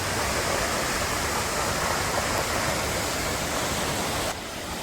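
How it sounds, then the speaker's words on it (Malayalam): Kapildhara waterfall on the Narmada River, deep in forest near Amarkantak, pours with a steady, loud, unbroken roar of rushing water throughout, with no voices. "ഇത് കപിൽധാര വെള്ളച്ചാട്ടമാണ്. നർമ്മദാ നദിയിലെ ഏറ്റവും ആദ്യത്തെ വെള്ളച്ചാട്ടമാണിത്."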